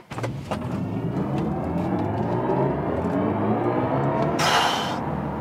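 A BMW i4 M50 electric car accelerates hard in sport boost mode, its synthetic drive sound a smooth rising whir over road rumble, steady and fairly close, with a brief airy swell near the end.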